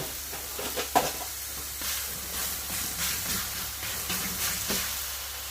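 Birds Eye chilli burger frying in a pan, a steady loud sizzle and crackle with occasional sharp pops, no voices.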